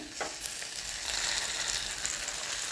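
Pre-fried okra tipped into a hot pan for an egg and okra dish, setting off a steady loud sizzle with a brief burst at the drop, then continuous crackling frying throughout.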